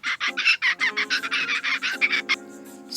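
Mating call of the brown rainbow eye, a fictional bird-like creature: a rapid run of about fifteen bright, chirping pulses in steady rhythm, loud and close. It ends in a brief tonal trill, then a final chirp.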